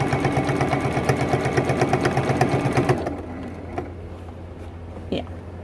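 A sewing machine stitching a T-shirt quilt runs in a fast, rhythmic, motor-driven chatter for about three seconds, then stops, leaving faint room noise and a brief small bump.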